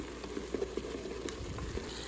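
Seasoned ground beef with Italian seasoning and garlic puree sizzles softly in a Ninja Foodi Grill while being stirred, a low steady frying hiss broken by a few light scraping clicks.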